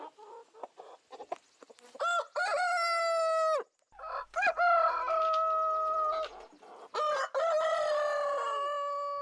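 A rooster crows several times in loud, drawn-out calls separated by short pauses, with some clucking between, close and clear with no talk.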